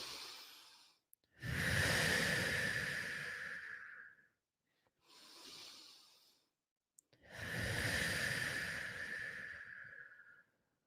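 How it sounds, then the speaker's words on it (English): Slow, deep breaths taken during a guided relaxation exercise, three long airy inhale-exhale swells with breathy hiss, close and fairly quiet, separated by short silences. "So let's go ahead and take 5 deep breaths."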